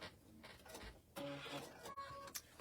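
A sewing machine stitches along the edge of a clear vinyl pouch in short mechanical bursts with brief pauses, close but quiet.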